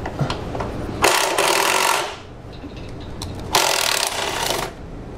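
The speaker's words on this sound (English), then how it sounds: "there is one bolt that we need to remove right there for the bracket" Power tool removing an intake bracket bolt on a Jeep Cherokee, Compass or Renegade 2.4 engine: two loud, close bursts of harsh buzzing rattle, each about a second long, separated by a quieter pause.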